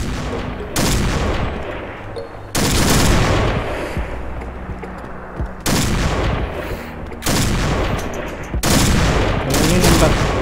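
Gunfire in a shooting video game, loud and close: repeated bursts of rapid automatic fire start and stop abruptly in several blocks, with booming impacts mixed in.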